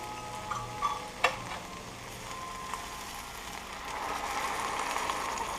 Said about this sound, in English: I'm going to add my broth, my 2 cups of broth